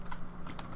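Keys tapped on a computer keyboard while entering a hex color code, a quick run of close, light clicks with no talking.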